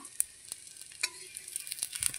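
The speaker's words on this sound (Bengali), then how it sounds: "আস্তে আস্তে সিমে দিয়ে বেগুনটা ভাজছি।" Eggplant frying slowly in oil on low heat, a faint, soft crackle with scattered light pops and a few utensil taps, quiet and close.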